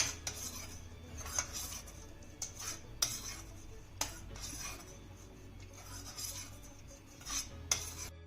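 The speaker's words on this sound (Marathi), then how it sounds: "आता ही डाळ आपल्याला चांगली घोटून घ्यायची आहे" Cooked dal being mashed with a metal utensil in a pot, with repeated sharp clinks and scraping strokes at an irregular rhythm, fairly quiet and close.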